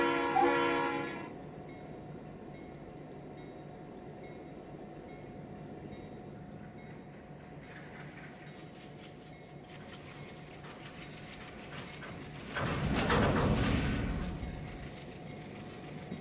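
Train horn blast in Trainz 2019 on the SSW Coxton Sub, then a long steady rumble of rolling rail cars, with a loud surge of clanking coupler slack late on.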